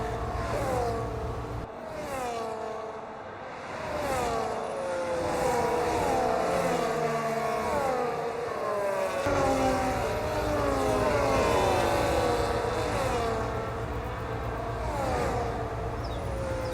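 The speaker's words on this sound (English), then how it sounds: "the Ferrari and the Mercedes in the back going for a move into turn 1" Race cars in a racing video game roar along a track, several engines revving and shifting in overlapping waves as cars chase each other toward a corner, loud and continuous with no talk.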